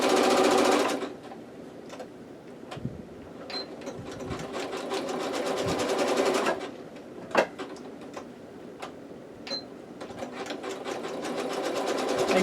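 A sewing machine stitches fabric with a steady mechanical whir and rapid needle chatter, broken by brief pauses and restarts as the fabric is turned.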